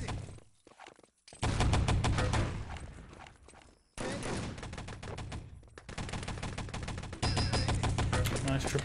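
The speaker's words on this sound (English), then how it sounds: "Nice triple headshot comes out from Insane." Rapid bursts of gunfire and headshot impacts in Enemy Territory during a 6on6 LAN tournament match, with dense rattling volleys broken by short pauses and brief quiet stretches, loud and close throughout.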